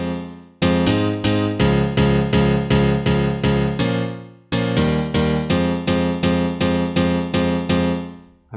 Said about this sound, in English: So this is the piano, the final result. It sounds like this.